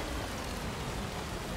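Steady rain in the video game Death Stranding, an even, soft hiss of falling drops that continues without a break and with no voices.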